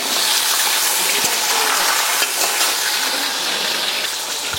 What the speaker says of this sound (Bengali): এখন এটাকে আমি একটু হালকা ফ্রাই করে তুলে নিচ্ছি